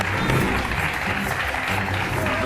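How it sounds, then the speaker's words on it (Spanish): Studio audience on a Spanish television show applauds volunteers called up from the crowd, a continuous dense clapping at moderate loudness with a faint low murmur beneath. "Un aplauso para ellos."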